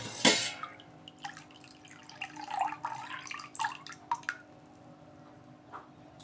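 Fermented dosa batter thinned with water being poured out, a brief splash followed by irregular liquid trickles and drips close by, no voices.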